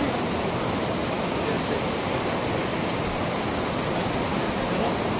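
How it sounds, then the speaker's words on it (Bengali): A hillside waterfall roars as a dense, steady rush of falling water, loud and unbroken throughout, with no voices. "ওই যে ঝর্ণাটা ওখান থেকে পড়ছে।"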